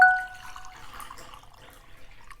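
Water is poured quietly into a plastic glass, a faint close trickle and drip after a brief clink at the start.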